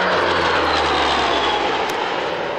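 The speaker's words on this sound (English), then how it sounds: "This is the ATR from Titan." An ATR turboprop airliner in Titan's colours flies past at a 1999 airshow at North Weald, its engines giving a loud, steady propeller drone and roar that fills the whole stretch.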